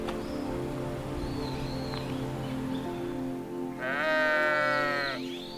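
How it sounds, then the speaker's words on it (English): A flock of sheep being herded in the British countryside gives a single loud, wavering bleat near the end, over a steady background hum and faint outdoor noise. "A shepherd is herding his flock of sheep."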